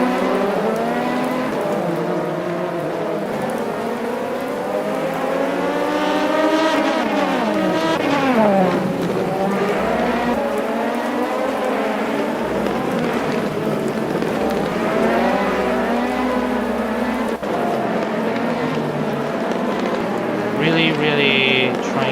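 Race cars roaring around the wet Sugo circuit in a racing video game, a continuous loud engine drone with rising and falling revs as cars pass, a commentator talking over it throughout.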